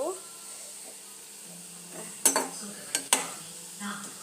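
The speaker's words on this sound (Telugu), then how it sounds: "ఇవి సిమ్లో పెట్టుకొని వేపుతున్నానండి. హైలో పెట్టలేదు స్టవ్." French fries fry in oil on a stove kept on low heat, making a soft, quiet sizzle with a few sharp clinks of a utensil against the pan near the end.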